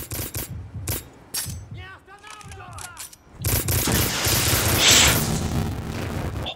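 Gunfire rings out in the shooter game Black on a dockyard level, with quick bursts of shots, a lull with ringing metallic tones, then a loud sustained barrage of automatic fire and blasts.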